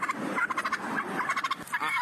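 A turkey gobbles loudly and close while attacking, its rapid, rattling gobbles running continuously through the moment, with no talking.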